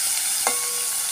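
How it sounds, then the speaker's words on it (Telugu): Washed prawns fry in hot oil with a constant close sizzle, broken by one brief stirring scrape near the middle. "నూనె వేడైంది, దీనిలోనే కడిగి పెట్టుకున్న రొయ్యలు వేయించుతున్నాను"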